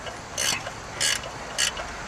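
A ratcheting box-end wrench clicks in three short bursts of crisp ratchet ticks, close and fairly quiet, spaced about half a second apart at an outdoor workbench.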